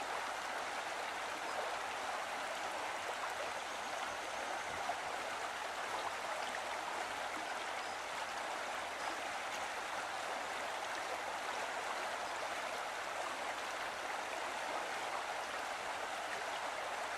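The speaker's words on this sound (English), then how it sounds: "The waterfall Skaftafell is framed by dark basalt columns like organ pipes, giving the waterfall its name," Svartifoss, a waterfall framed by dark basalt columns in Skaftafell, Iceland, pours in a steady, dense roar of falling water that stays even and unbroken throughout, with no voices.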